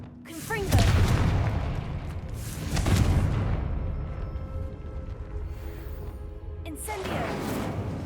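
A Confringo fire spell from Hogwarts Legacy blasts twice in heavy booming bursts, each followed by a long rumbling decay, with a third softer impact near the end.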